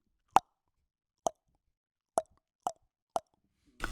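Five crisp tongue clicks against the roof of the mouth, mimicking a wood block, spaced irregularly with silence between them and one more sound at the very end; no speech.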